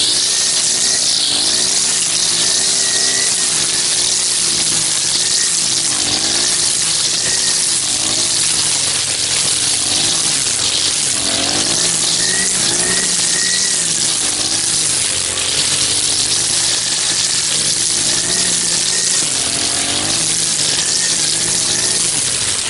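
A string trimmer with line fitted runs loud and continuous outdoors, a dense high whir with a wavering motor drone underneath that rises and falls throughout.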